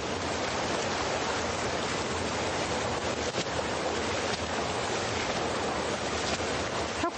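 A wide, high-volume river in winter flow rushes steadily at a village washing spot where clothes and carpets are laundered, a dense, unbroken hiss of moving water, loud and close, with no voices.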